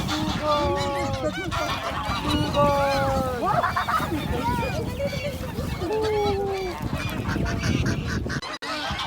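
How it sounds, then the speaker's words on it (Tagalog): A large crowd of ducks being fed sets up a noisy run of overlapping honking, quacking calls, close and continuous, with a person's voice mixed underneath. "tingnan nyo sa likod ko, napakarami ng mga bibe, oh. Pinapakain sila."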